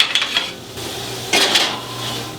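A thick aged Tomahawk steak is turned in a plastic-handled pan, which then goes back into the oven. Close metallic clanks and scrapes sound over a steady hiss, with a sharper knock midway.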